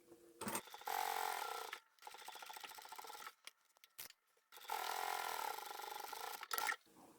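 A sewing machine stitches the bottom seam of a divided fabric basket, running in steady rattling bursts with short pauses between them, close and alone.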